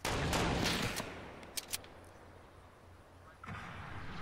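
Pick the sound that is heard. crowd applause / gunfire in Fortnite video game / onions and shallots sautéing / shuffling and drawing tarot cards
gunfire in Fortnite video game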